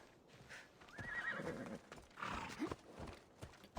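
A horse in the ancient Greek world of Assassin's Creed Odyssey lets out a loud whinny, then a second neigh, with a few hoof clops near the start and end, no voices.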